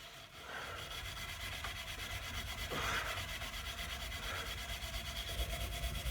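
Hand scrubbing on the surface of a small wooden bookcase, a soft, continuous rubbing and scraping that stays quiet and steady throughout with no talking.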